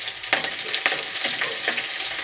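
Chopped onion, garlic and green chili hit hot oil for a taro-stolon curry, giving a loud, close sizzle broken by a few sharp stirring scrapes, with no voices.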